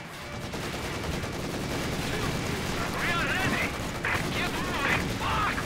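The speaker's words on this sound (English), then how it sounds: "Headquarters is taking enemy fire." Rattling bursts of gunfire hitting a headquarters in Company of Heroes 2, a continuous battle din with a few sharper volleys and voice-like radio chatter overlapping in the second half.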